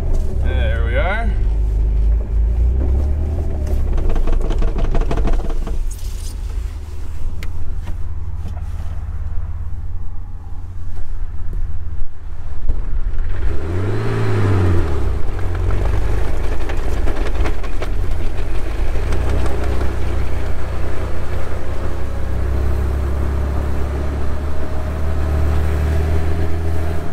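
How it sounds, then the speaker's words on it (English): A vehicle on Super Swamper tires revs and spins in deep snow, with a loud, continuous engine rumble that swells and dips as the gas is worked. Someone talks over the engine noise. "Let's spin it around, give a little gas."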